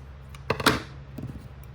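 Scissors cutting paper for a journal, with a couple of quick close snips followed by softer rustling, quiet with no voices.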